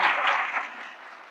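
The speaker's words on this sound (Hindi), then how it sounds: "ताली बजा करके स्वागत करिए" Short burst of clapping welcoming award winners at a New Year function of an education service institute, a steady wash of hands that tapers off over about a second.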